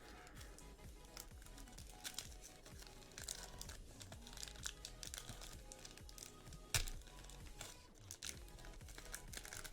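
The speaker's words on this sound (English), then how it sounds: "I don't like having to open these plastic ones because it's always like a pain" Continuous crinkling and crackling of plastic trading card packaging being opened up close, with irregular rustles and small snaps throughout and no talking.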